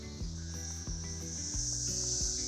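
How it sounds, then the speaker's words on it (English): Cicadas drone in a steady, loud high-pitched buzz that fills the whole stretch, with a few low thumps and rustles from a garden setting underneath. "Cicadas are the weirdest sounding thing."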